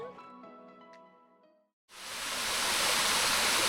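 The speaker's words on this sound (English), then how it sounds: "We've come up to the Seven Wells Waterfall today, just to have a bit of a cool off and a swim." Seven Wells Waterfall pours in a steady, loud, close rushing roar that starts abruptly after a short musical passage and a brief silence, then holds evenly to the end.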